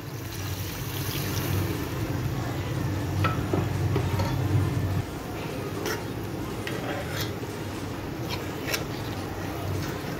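Half a cup of water pours into a pan of kofta and potato curry, a close rushing splash for several seconds that settles into a lower, steady hiss.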